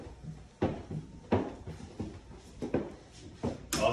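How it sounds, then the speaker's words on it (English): A solid core pocket door in a bedroom of an ADU slides along its track in a series of rolling bumps and knocks, close and moderately loud, with no talking. "awesome solid core pocket door"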